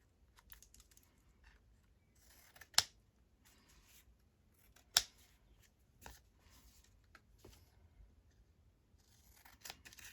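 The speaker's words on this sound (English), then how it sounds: "I think I'll just cut them with my scissors" Scissors snip through paper belly bands at a craft table, making quiet close-up cuts and rustles punctuated by a few sharper clicks spread over several seconds, with no talking.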